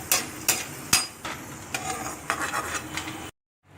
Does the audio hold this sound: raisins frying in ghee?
yes